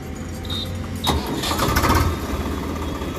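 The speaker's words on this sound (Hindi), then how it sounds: "तो देख सकते हो कितनी शानदार आवाज़ है ट्रैक्टर की" A 2021 Swaraj 855 FE tractor engine is started, with a brief key rattle before a sharp crank and catch at about one second, then a steady, loud diesel idle that runs on alone.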